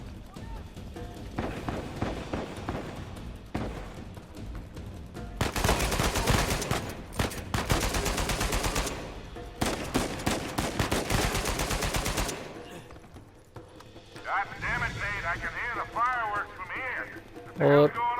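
AKM rifle gunfire in the video game Uncharted 4, heard as dense rapid bursts of shots in two long loud stretches, with game sound effects and someone talking around them.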